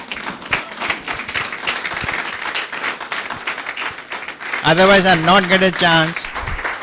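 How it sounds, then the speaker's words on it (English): Audience applause fills a conference hall at a national conference session, a dense steady wash of many hands clapping, with a voice rising loudly over it near the end. "And I want a standing ovation."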